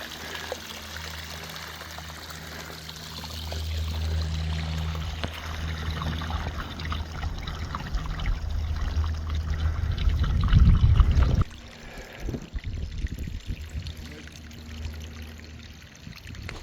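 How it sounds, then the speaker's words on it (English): Water runs through a freshly dug trench into a pond, a gurgling pour that grows louder and then cuts off into a quieter trickle. "Oh, it's flowing. We had some water backed up. We're already filling up the pond."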